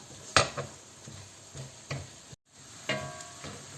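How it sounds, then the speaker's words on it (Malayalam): Onions frying in a pan as they brown, with a soft sizzle under repeated scraping stirs of a spoon against the pan, several distinct strokes close by and no talking. "നല്ലതായിട്ട് ബ്രൗൺ കളർ ആവണമെന്ന് പറഞ്ഞാൽ നിങ്ങൾ ഇളക്കിക്കൊണ്ടിരിക്കണം കേട്ടോ, നല്ലതായിട്ട് വറുത്ത് കിട്ടാനുള്ളതാണ്"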